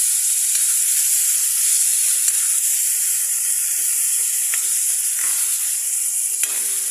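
Turkey berries and onions frying in a pan with potatoes to follow, a steady loud sizzle and hiss with occasional stirring scrapes, no voices.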